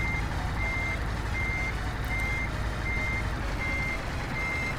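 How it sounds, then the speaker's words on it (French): Repeated electronic reversing beeps from a Scania R700 truck in Euro Truck Simulator 2, a steady high-pitched beep pulsing at an even rhythm over a constant low engine rumble, loud and close with no talk. "Avec le bip de recul qui nous pète les oreilles"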